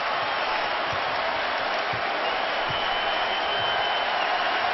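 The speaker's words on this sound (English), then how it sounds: "And hearing it from this crowd." Crowd noise fills a basketball arena during a Bulls versus Heat playoff game, a steady broadband roar with scattered low thumps, probably footfalls or bounces, running continuously and fairly even in loudness.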